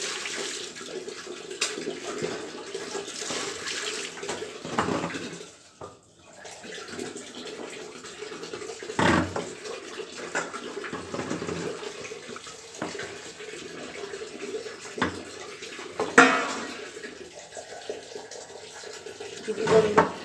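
Tap water runs steadily while fish is rinsed in a sink, a continuous close splashing stream with brief breaks and a few louder spurts.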